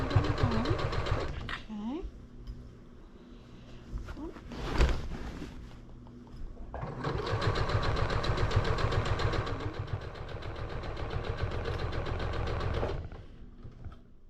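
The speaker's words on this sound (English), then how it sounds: "border piece to be sewn on there as straight as possible to avoid waves" A sewing machine runs in steady rapid bursts while stitching a border onto a quilt, close and fairly loud, with a long continuous run in the second half and brief pauses between, along with some talking.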